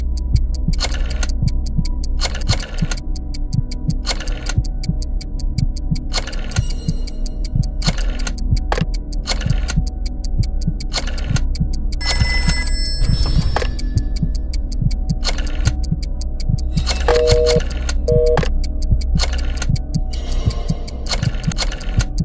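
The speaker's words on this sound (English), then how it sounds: "Dial one of these numbers on your rotary phone before anyone else, or you die." A rotary phone in the party trivia game Trivia Murder Party 2 is dialed, giving repeated mechanical clicking bursts in a steady rhythm over a low, constant hum, with no voices.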